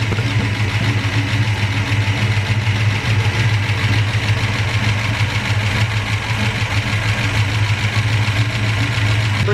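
A carbureted engine idles while warming up, a loud, steady, close rumble with a faint rhythmic knock that holds evenly for the whole stretch and has no speech over it.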